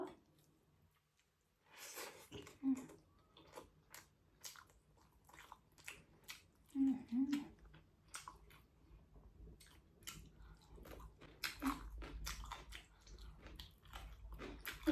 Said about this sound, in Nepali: म चाहिँ खाना खान लागेँ है साथीहरू